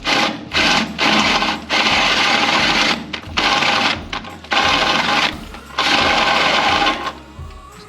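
A step drill bit, the Christmas tree type, bores through metal during a garage suspension-drop job, in about six loud, close, whirring bursts separated by short pauses, with the last burst trailing off.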